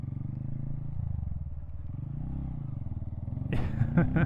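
A Honda Grom motorcycle engine idles and putters while the bike struggles in deep sand. The idle is close and steady, with a rough burst of revving and clatter near the end.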